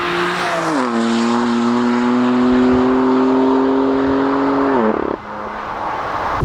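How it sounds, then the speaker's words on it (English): A BMW M4 CS with a stainless steel exhaust revs hard toward the limiter, its engine tone climbing into a loud, sustained scream and then abruptly dropping away as the revs fall. "if you push this to maximum RPM, to the limiter, it screams almost like a Ferrari"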